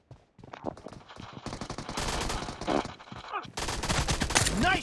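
Rapid in-game gunfire from a BGMI team deathmatch, bursts of shots stacking into dense volleys with some chatter mixed in, growing louder toward the end.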